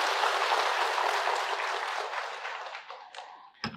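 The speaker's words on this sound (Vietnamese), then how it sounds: "một tràng pháo tay giùm tôi" An audience at a Buddhist sermon gives a burst of applause, loud at first and then fading, ending with a few scattered claps and a short noise.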